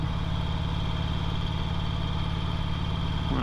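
A 2008 Harley Davidson Sportster 883L motorcycle engine runs with a steady, loud, low rumble and constant wind noise while riding, with no change in pitch.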